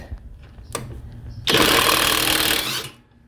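A best-selling cordless impact wrench hammers a stuck bolt loose in one loud, continuous burst of rattling impacts lasting over a second, following a quieter lead-in with brief clicks, then winding down to quiet.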